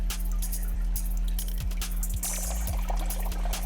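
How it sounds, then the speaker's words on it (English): Water trickles slowly into a fish acclimation bag holding pond-raised White Cloud fry, a soft close pour with light drips and small clinks over a steady low hum. "And you just keep slowly pouring that water in there."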